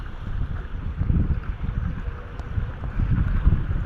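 Strong northeast monsoon wind at a harbor on an overcast day with choppy water, a low rumbling gust that buffets the microphone in uneven surges, with no voices.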